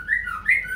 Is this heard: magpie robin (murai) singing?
yes